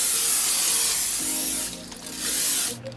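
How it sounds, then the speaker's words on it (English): Nonstick cooking spray hissing onto a baking dish in a kitchen, a loud continuous aerosol burst that briefly pauses before spraying again and then cuts off. "I'm going to spray it with this nonstick spray"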